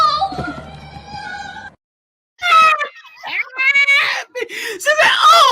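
A cat screams and yowls in sharp, strained bursts, loud and close, broken by a brief silence before more harsh wailing cries.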